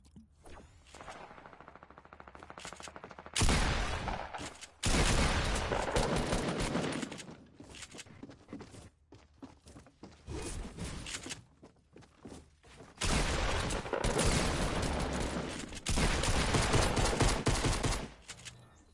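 Fortnite gunfight with loud, close bursts of shotgun blasts and rapid fire in several separate volleys, broken by quieter gaps with footsteps and movement.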